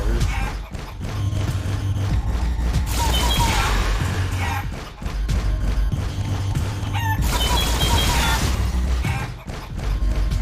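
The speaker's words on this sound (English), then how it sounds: "I swear I'm gonna be hearing chicken noises in my nightmares." Chicken clucks and rooster crows from the video game Guacamelee 2 repeat over a dense, loud mix of game sound effects and mechanical clatter, with two brighter bursts of squawking.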